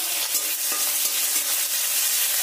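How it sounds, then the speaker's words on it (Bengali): Onion paste frying in hot mustard oil gives a steady, close sizzle with faint stirring scrapes running throughout, and no voices. "তেলটা আমার গরম হয়ে গেছে, এতে বড় সাইজের একটা পেঁয়াজ বেটে রেখেছিলাম সেটা দিয়ে দিলাম"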